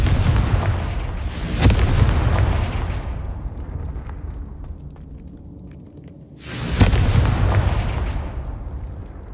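Confringo spell blasts in Hogwarts Legacy go off as two loud, booming explosions a few seconds apart. Each has a sharp onset and a long rumbling decay, with no talk over them.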